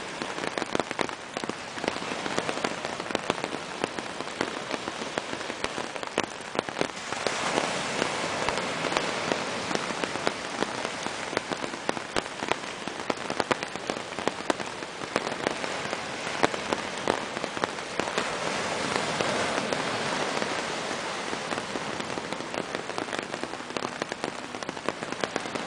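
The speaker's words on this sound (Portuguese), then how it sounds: "E com muita chuva." Heavy rain pours down at Praia do Meio beach in Trindade, a thick, unbroken roar of falling water that holds steady for the whole stretch, with no one speaking.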